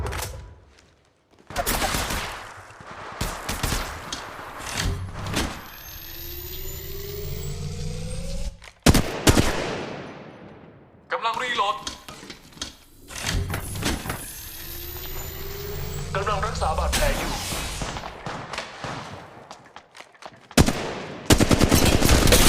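Bursts of automatic weapon fire from Apex Legends gameplay, loud sustained volleys with brief pauses between them, accompanied by in-game effects and no talking.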